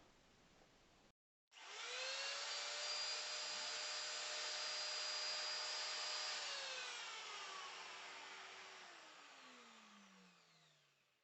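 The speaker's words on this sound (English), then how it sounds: "the hoover should start up" A shop vacuum wired through upgraded workbench electrics kicks on when a router is switched on. After a brief silence it bursts into a loud, close, high whining roar, holds steady for several seconds, then gradually winds down in pitch.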